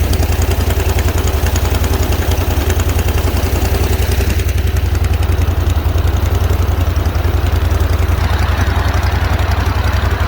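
A loud airboat engine drones continuously with a deep, even rumble and a constant mechanical rattle, filling the whole stretch without pause.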